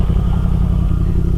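Motorcycle engine running loud and close, with a rough, pulsing rumble and a steady, throbbing idle-to-rev tone.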